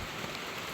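Rain falling on garden plants on New Year's Day, a soft continuous hiss with faint patter, brief and fairly quiet.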